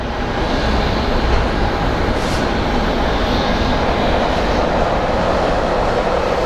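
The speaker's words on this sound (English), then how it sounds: "Alright, that is Southwest 1640. It's a 737 MAX." A Southwest Boeing 737 MAX jet airliner at Phoenix Sky Harbor airport gives a loud, steady, close engine roar that stays broad and even throughout, with no voices.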